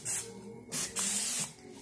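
Cooking spray hisses onto a waffle maker in several short bursts, with a longer spray near the end, close and fairly loud, with no talking.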